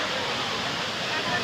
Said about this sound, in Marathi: आता धबधबा आहे कपिलधारेला